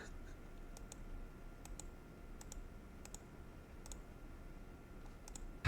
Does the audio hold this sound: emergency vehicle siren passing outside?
no